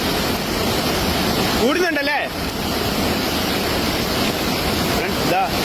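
Rushing floodwater from a hill stream swollen by rain at Kuruthichal near Mannarkkad, a loud continuous roar with rain, briefly overlaid by a voice in the middle and again near the end.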